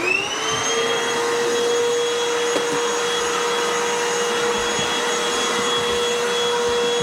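A vacuum cleaner runs steadily and loudly close by, used to clear residue during interior house painting, with a constant whine and strong tonal hum that stays unbroken throughout.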